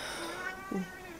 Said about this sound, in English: That's my cat outside.